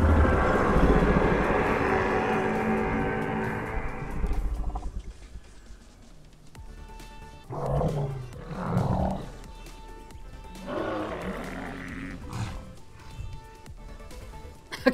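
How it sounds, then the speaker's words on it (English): Modded Tenontosaurus dinosaur in the Path of Titans video game lets out a long, loud, rumbling roar, followed by several shorter, quieter calls. "let's hear the roars."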